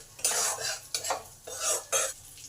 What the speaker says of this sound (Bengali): আদা, জিরে, সর্ষেটা একটু ভাজা করে নেব।